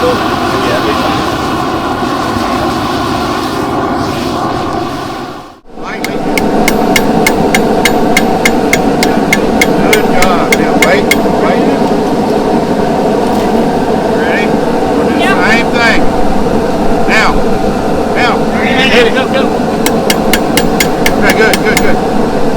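Hammer blows ring out on hot metal at an audience forging competition, bursts of rapid sharp strikes repeated close by, with people talking and a steady background drone.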